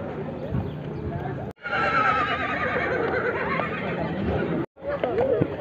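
A horse whinnies loudly and close, its neigh rising and wavering, with hoof clops and people talking nearby at a horse, mule and donkey market in San Antonino Castillo Velasco, Oaxaca; brief silent gaps break the sound.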